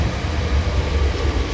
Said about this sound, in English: There's the overground.